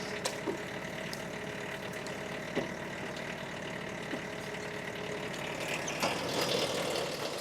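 A tractor engine runs at a steady mid-range idle while a tractor-mounted Uniforest 45m forestry winch pulls. The drone is continuous, with a few faint knocks and clanks mixed in and no voices.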